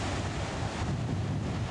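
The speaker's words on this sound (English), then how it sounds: "Pretty big recirculating waves in there." Big recirculating waves churning at St. Clair Falls on the Quoich River, a loud, continuous roar of whitewater with heavy wind buffeting on the microphone.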